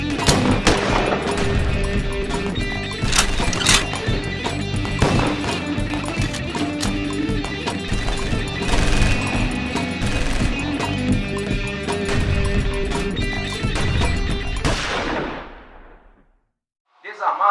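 Dense, sustained police gunfire from a rural confrontation near a house and woods, loud and continuous with rapid overlapping shots for about fifteen seconds before cutting off abruptly into near silence.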